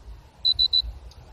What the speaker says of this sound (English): So the 3 beeps tell us that all is well.